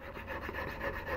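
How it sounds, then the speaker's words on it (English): A velour half-round buff file rubbing along a ring's edge at a 45-degree angle to bevel it at a jeweler's bench, a steady close scraping rasp that runs the whole time without pause. "this is a little velour half round buff file. What I'll do is I'll just put that bevel on there"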